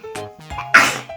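A single sharp sneeze from a child bursts out loud and close, preceded by a few short breaths or small vocal sounds.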